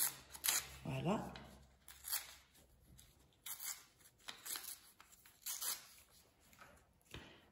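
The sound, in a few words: tearing paper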